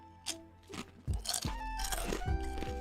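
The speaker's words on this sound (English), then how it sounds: "I'm currently eating some tortilla chips." Tortilla chips being eaten up close, with loud, irregular crunching bites and chewing filling the clip over low background sound.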